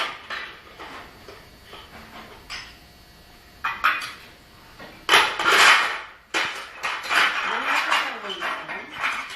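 A baby spins plates, making irregular clinks, clatters and scraping rattles that grow louder in bursts, while adults talk and cheer nearby.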